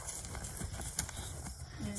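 Horse jogging at a slow western jog in an arena, hooves giving a soft, steady clip-clop rhythm under continuous low background noise.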